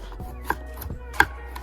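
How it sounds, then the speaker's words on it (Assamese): A knife chops onions on a board during outdoor cooking, giving a handful of sharp, close, irregular taps in quick succession, with no talking. "এতিয়া প্ৰথমতে পিঁয়াজকেইটা কাটি লম।"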